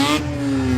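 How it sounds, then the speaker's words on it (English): A Mazda RX-8 with a large exhaust revs loudly nearby at a motorsport event at Oulton Park, a high buzzing rotary whine holding a steady pitch after an initial burst. "That RX-8 is very loud."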